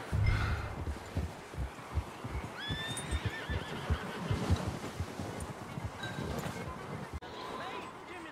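A horse neighs and whinnies, and hooves clop steadily in the Western game Red Dead Redemption 2. The hoofbeats run throughout, with a close, loud snort and whinny in the middle.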